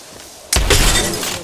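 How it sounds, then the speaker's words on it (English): Shield breaking in the Apex Legends video game, a sudden loud glassy shatter with a heavy low thump, followed by a ringing, crackling tail over the quieter background game audio. "Shield broken."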